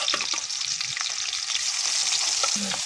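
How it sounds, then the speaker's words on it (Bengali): Small fish sizzle in hot oil in a home kitchen, a steady bright crackle of frying with occasional stirring clicks, close and continuous without any voices. "আগে এই মাছটা আমি ভেজে নিব"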